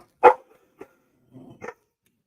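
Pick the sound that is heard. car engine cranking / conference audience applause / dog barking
dog barking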